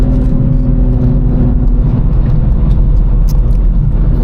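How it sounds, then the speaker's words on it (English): A solid one-piece drive shaft in a BMW 1M clone build drones and whirs as the car drives, with a steady low mechanical hum under broadband road and engine noise throughout. "You can hear the drive shaft in this car, dude. It's loud."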